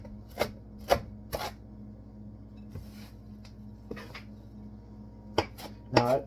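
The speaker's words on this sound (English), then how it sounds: "mince the parsley a little finer" A knife chops parsley for tabouleh on a cutting board, giving scattered, quiet, crisp taps in small groups against a faint background hum.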